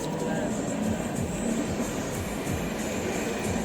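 A train passes on a railway line with a steady, broad rumble and faint rhythmic clicking over it, heard at moderate distance for several seconds.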